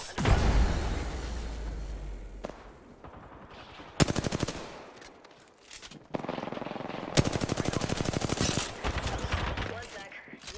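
Rapid automatic gunfire from an online squad shooter game comes in long dense bursts separated by brief lulls, loud and close, with a player talking between the volleys.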